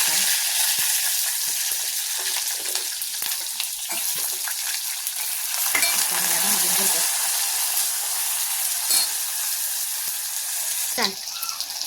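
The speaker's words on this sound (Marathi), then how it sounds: "मिरच्या पण आपल्याला तळून घ्यायच्या." Green chillies frying in oil in a pan for spicy Maharashtrian chilli thecha: a loud, dense, continuous sizzle with scattered spatters and occasional stirring clicks.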